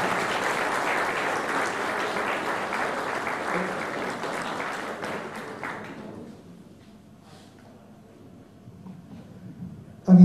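Audience applause at a Christmas-evening sports gala in Puck municipality, Poland, honoring a table-tennis player: dense sustained clapping for about six seconds that fades to near quiet, then a sharp sound at the very end.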